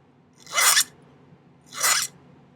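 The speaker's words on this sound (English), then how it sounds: "Now I'm just going to file it flush on the bottom." Two separate rasping strokes of a hand file smooth a thin metal jewelry bezel flush for Larimar teardrop earrings. Each pass is close and crisp, with a quiet pause between them and no voices.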